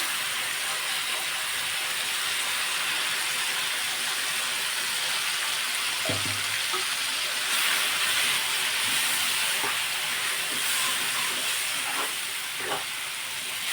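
Ground spice paste sizzles in hot oil for a mung dal curry, a steady bright hiss that runs throughout. A faint clink and a few small pops come through partway in.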